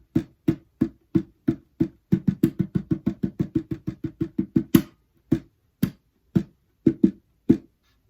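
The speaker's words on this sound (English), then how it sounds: "all 3 lines I have shown here for the percussion for part 3 of the bridge would sound like this" Percussive smacks and slaps on an acoustic guitar body form a rhythm pattern: steady hits, then a fast dense run of thumps with a sharper slap near the peak, then sparser, spaced-out hits, all close-up and dry with no voices.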